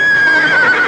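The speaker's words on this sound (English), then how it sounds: "Now I'm going to help Jim find the horses." A horse gives a single short, loud whinny up close, shrill and wavering for under a second.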